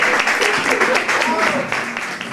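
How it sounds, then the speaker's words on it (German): A theatre audience claps in a dense, steady burst of applause that slowly fades toward the end. "Applaus und Vorhang auf!"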